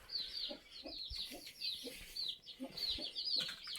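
Several chickens cluck and chirp softly in an irregular stream, close by, with higher peeping calls mixed in.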